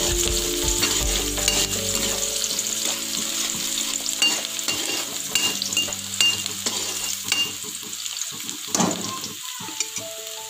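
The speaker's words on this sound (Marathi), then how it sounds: "आता यामध्ये मी कांदा घालत आहे। तेलात परतून घेऊया।" Onion frying in oil in a home kitchen, a continuous loud sizzle with stirring scrapes and a few utensil taps throughout.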